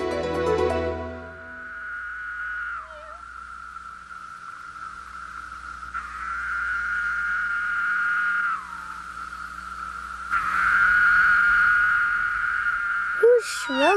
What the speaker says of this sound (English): The loud buzzing Ada heard was a male cicada singing for a mate.